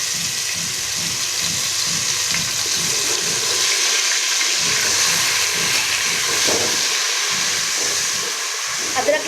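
Ginger garlic paste fries in a pan over already-fried onions, giving a continuous close hiss and sizzle with rhythmic low thumps of stirring early on, no voices.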